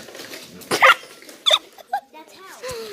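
A dog at a barn gives a few sharp barks and yips spaced out over a few seconds, close and fairly loud, with quiet background noise between them.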